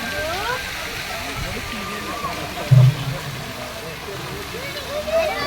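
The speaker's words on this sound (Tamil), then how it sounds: "ஏய் ஃப்ரெண்ட்ஸ் இங்கே பாருங்கள், ஃபவுண்டன் தண்ணி நிறைய அப்படியே எவ்வளோ அழகாக வருது பாருங்கள்." Fountain at Malampuzha Dam in Kerala sending out a continuous rushing, splashing flow of water, a steady broadband wash heard up close with a brief louder thump partway through.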